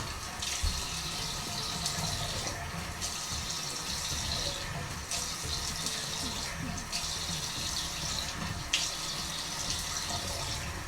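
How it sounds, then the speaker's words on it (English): Water runs steadily from a bathroom tap into a sink during an evening skincare rinse, a constant close splashing flow with faint bursts of splashing as hands move through it. "Time to rinse."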